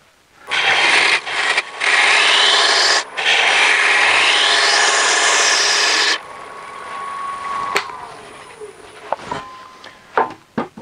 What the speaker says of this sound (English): Let me try that out with a gouge,